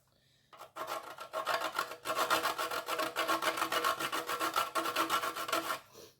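A whole nutmeg rasps against a grater in quick, repeated scraping strokes, close and fairly loud, running steadily for about five seconds before stopping.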